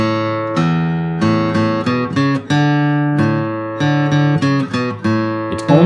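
An acoustic guitar plays the bass-note intro of a song, plucked low notes stepping in a steady rhythm and ringing together, loud and close with no talking.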